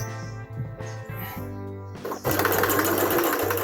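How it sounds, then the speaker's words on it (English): A sewing machine stitching fabric for a face mask along a quarter-inch seam, first in short rhythmic bursts, then breaking into a louder, sustained whirring run, with no speech. "So I'm going to sew a 1/4 inch."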